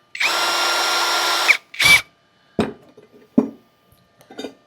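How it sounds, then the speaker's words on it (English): A power drill bores a pilot hole into a metal exhaust tube, with one long loud burst of whining drilling, a short second burst, then several brief scrapes and clinks of metal as the bit is handled. "Let's drill a pilot first."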